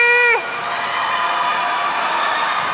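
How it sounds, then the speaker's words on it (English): A loud roller derby crowd roars and cheers continuously, a dense wash of voices, following a brief sustained horn-like tone at the very start. "they hear that cheering"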